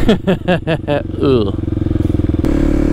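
A Kawasaki KLX300 dual sport motorcycle putters along in first gear at low speed behind a car, its single-cylinder engine giving close, rhythmic pulses that rise briefly as the throttle opens.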